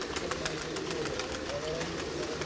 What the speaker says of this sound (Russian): Постоянно голуби перелетают туда-сюда.